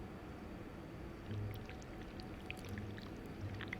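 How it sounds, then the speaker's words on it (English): Wax being poured from a pot in the video game This Bed We Made, a soft continuous liquid pour with faint trickling and a few small splashes, heard alone at low level. "we need to pour the wax from the pot"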